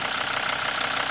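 A Mercedes diesel engine idles in a brief, steady, close rumble with a dense, uniform rattle and no voices.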